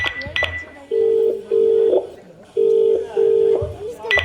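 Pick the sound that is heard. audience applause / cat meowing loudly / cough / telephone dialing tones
telephone dialing tones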